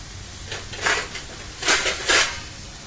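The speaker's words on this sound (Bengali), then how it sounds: "দিয়ে আমি কড়াটা ঢেকে দেবো" A metal lid clanks onto a wok during cooking of bottle gourd, a few close, sharp metallic knocks and rattles spread over a quiet kitchen background.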